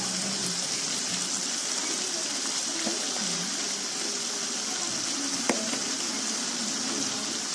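Chicken pieces tossed into a pan of green chili spice paste for ayam lado hijau give off a steady, moderately loud sizzle and hiss that runs the whole way, with a few soft knocks of the pieces and a utensil against the pan.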